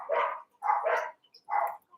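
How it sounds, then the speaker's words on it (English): Dogs bark in a live online tarot and oracle card reading session, three loud bursts of barking close to the microphone, one a quick double bark, with short quiet gaps and no talk over them. "I'm so sorry about those dogs"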